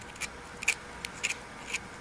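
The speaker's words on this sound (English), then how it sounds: "with the knife, I'm just going to gently trim off these little" An X-Acto knife trims small plastic pieces off a marker in a handful of faint, crisp snips and clicks spaced across a quiet moment.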